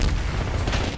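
A Semtex grenade blast in Black Ops 6 multiplayer: a loud, dense, broadband burst of explosive rumble filling the whole second, with crackling gunfire-like texture and heavy low-end boom throughout.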